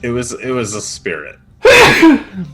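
A single sharp sneeze bursts out loudly after a short stretch of speech, close and forceful, during a tabletop role-playing session.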